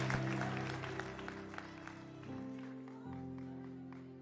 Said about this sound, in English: One more round of applause to the best staff that I know.